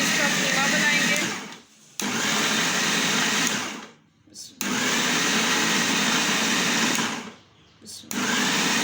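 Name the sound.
electric chopper mincing chicken with onion and spices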